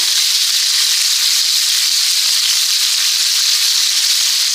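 Chicken cutlets sizzling steadily in a pan after being flipped, a loud continuous bright frying hiss with no breaks.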